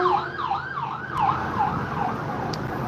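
A wailing ambulance siren sweeps up and down in quick repeating cycles as it passes along a city street, loud and fairly close over road traffic noise, with no voices.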